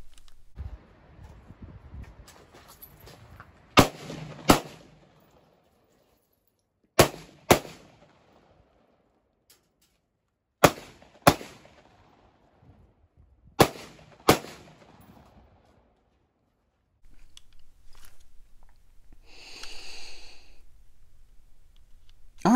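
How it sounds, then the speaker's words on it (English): Seven sharp rifle shots from an LWRCI M6IC A5 crack out close and loud, spaced in pairs across the stretch, each with a short echoing tail, followed by a soft rustling, shifting sound near the end. "I really enjoy shooting this rifle."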